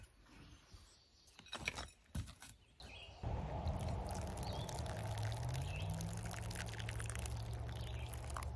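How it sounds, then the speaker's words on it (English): Water poured onto hydrophobic potting soil in a pot, a steady close splashing and trickling that starts abruptly after a few quiet knocks and handling sounds, then runs continuously. "I'm gonna add the soil to the pot again and just see if we, when we add the water, if it helps absorb the water better or not."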